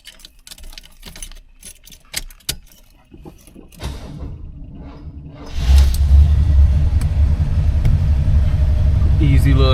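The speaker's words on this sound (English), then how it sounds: "Easy little startup, no issues there" Keys rattle and click in the ignition of a 1974 Cadillac Deville, then the engine cranks and catches, settling into a loud, steady low rumbling idle.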